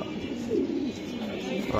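Racer pigeons give a soft, rolling coo, one burst rising then falling, set against a steady hum of background noise with no voices.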